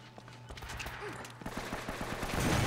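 AK rifle gunfire in the Uncharted: Drake's Fortune video game crackles through a noisy firefight, a rapid string of fairly faint automatic shots building in intensity toward the end.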